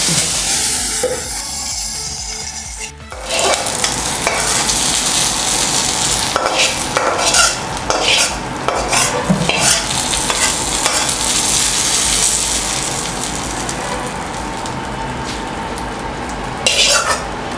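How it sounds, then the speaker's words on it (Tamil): Spices, curry leaves and crushed garlic fry loudly in hot oil for a chicken kurma tempering, a dense close sizzle with clinks of a metal utensil against the pan, and no talking. "இதெல்லாம் போட்டு பொரித்து மேலே தாளித்து கொட்ட வேண்டியதான்"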